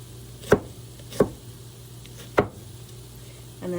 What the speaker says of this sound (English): I am just chopping up some onion for us.